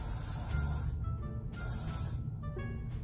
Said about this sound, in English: I'm gonna take this Got To Be Glued freeze spray,